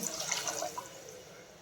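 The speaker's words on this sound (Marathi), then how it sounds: "थोडंसं गरम पाणी सोडते" A splash of hot water goes into simmering mutton rassa gravy in a pan on a wood-fired stove, giving a brief, faint liquid pour and bubbling that trails off quickly.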